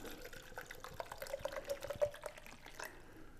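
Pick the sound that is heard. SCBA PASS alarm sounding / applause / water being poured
water being poured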